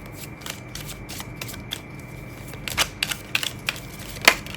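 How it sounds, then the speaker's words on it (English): Tea leaf oracle cards are shuffled by hand in a series of quick crisp riffles and flicks, soft at first and growing sharper and more distinct toward the end, close by with no talking. "I've gotten much better at shuffling the tea cards"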